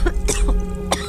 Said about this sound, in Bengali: মাঝে মধ্যে হয় প্রচণ্ড কাশি।